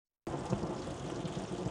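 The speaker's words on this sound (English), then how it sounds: "Boy, the rain's really coming down." Heavy rain pours down in a steady, dense broadband hiss that begins abruptly and holds loud and unbroken, with no voices over it.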